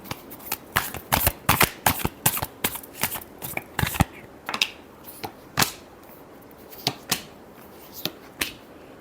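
A deck of tarot cards is shuffled by hand in a series of crisp, close riffling bursts, sharp flicks and short flurries spaced irregularly across the whole stretch, with no talking over them.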